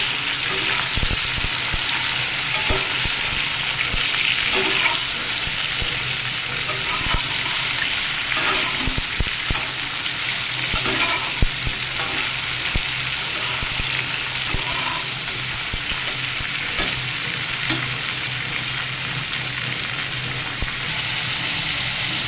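Bottle gourd stir-fries in hot oil, a loud continuous crackling sizzle layered with frequent scraping and stirring clicks of a spatula against the pan, close and unbroken throughout.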